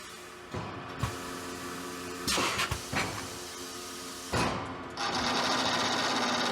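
Roll stock packaging machine running steadily with a continuous mechanical hum and whir, broken by a few louder bursts as its trimming knives and guillotine crosscut and seal the product; no talking.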